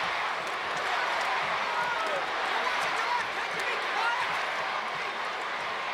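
Capacity crowd in a wrestling arena roars steadily for Lex Luger during a WrestleMania X title match against Yokozuna, a dense, continuous wash of distant cheering with no break across the whole stretch.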